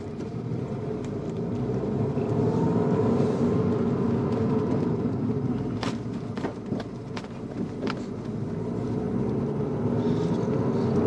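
An Abarth 500 esseesse drives along with a steady engine drone and road rumble from inside the cabin, broken midway by a series of sharp knocks and rattles from a bumpy surface and stiff suspension.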